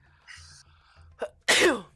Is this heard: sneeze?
yes